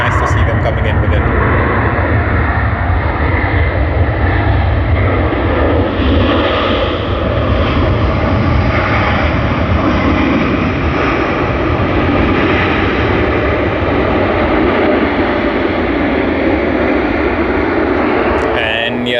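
Jetstar airliner coming in to land at Sydney Airport, a loud, close, continuous engine roar with a deep rumble that swells slightly midway and holds steady to the end.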